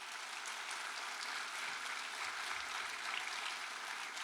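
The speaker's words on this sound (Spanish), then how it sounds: "Le damos un aplauso a ellos por sus vidas." A church congregation at a gathering applauds, a steady, distant wash of clapping that stays even and fairly quiet throughout.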